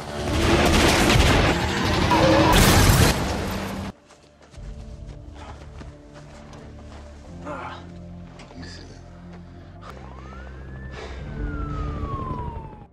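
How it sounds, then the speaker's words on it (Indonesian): Police sirens wail in a film scene, faint and distant, one rising tone sweeping up late in the clip after a loud burst of noise, under low music and effects. "Mendengar sayup-sayup sirine FBI"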